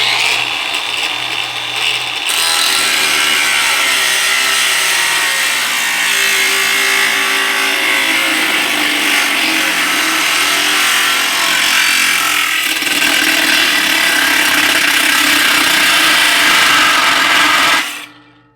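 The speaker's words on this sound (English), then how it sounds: "got the grinder. Let's see if we can cut this." An angle grinder cuts clamped metal for a custom grill insert on a Cub Cadet 582 pulling tractor, roaring loud and steady for about fifteen seconds before cutting off abruptly.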